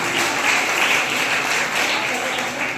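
Loud, dense applause from an audience at a Beti Bachao event, cheering on a girl who wants to become a CA; sustained steady clapping throughout with some background voices.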